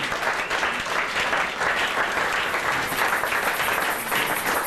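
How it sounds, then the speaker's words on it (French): Church congregation applauding loudly on a preacher's call, a dense steady wall of clapping from a large crowd that holds without a break from start to finish. "Acclamez très fort"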